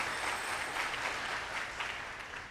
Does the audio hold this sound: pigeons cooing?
no